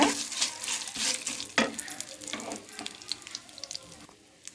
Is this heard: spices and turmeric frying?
yes